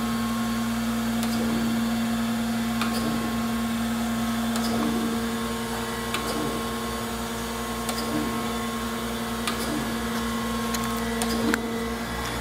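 An Acer AGS-1020 AHD 3-axis surface grinder runs with a steady, even mechanical hum, broken by faint periodic ticks and clicks as the table strokes back and forth.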